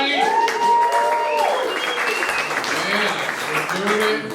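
Comedy club audience in an art gallery in San Diego breaks into loud, dense applause with cheers, close and sustained, while a voice talks over it.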